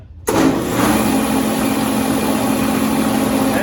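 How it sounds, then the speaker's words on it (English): An industrial machine motor with an in-feed roller kicks on abruptly through its motor starter after a moment of quiet, then settles into a steady, loud, close hum that runs without letup. "Hit the start on the motor starter"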